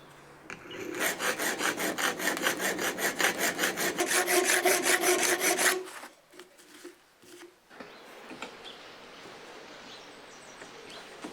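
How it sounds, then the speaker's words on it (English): A hand file rasps flat surfaces onto an 8mm metal rod in a steady rhythmic series of close strokes, which stop after about six seconds, leaving faint handling sounds. "before making the slot, I first created the flat surfaces with a file"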